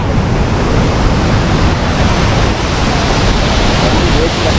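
Ripple Falls waterfall in Munnar, running with low water, gives a loud, steady broadband rush of falling water, constant throughout with no clear voices above it.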